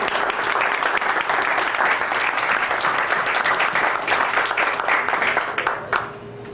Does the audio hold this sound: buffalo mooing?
no